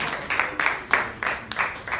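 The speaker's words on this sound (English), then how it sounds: "Est-ce qu'on peut applaudir s'il vous plaît?" A small audience at a brunch gathering claps in a few quick bursts, short loud waves of clapping that swell and fade several times in a row, close by.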